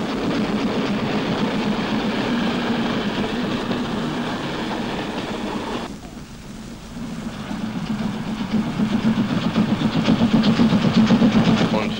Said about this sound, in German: 10 Dampflokomotiven fahren immer wieder über die Brücke und immer schneller.